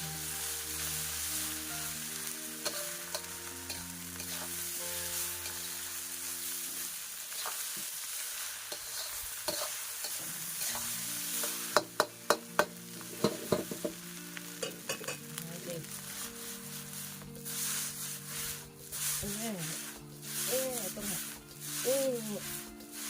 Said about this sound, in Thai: จะผัดให้ข้าวมันแบบแห้งนะนะ